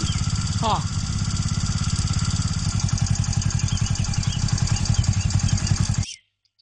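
A motorcycle engine runs steadily and close by, its rapid, even putter continuing for about six seconds before cutting off abruptly.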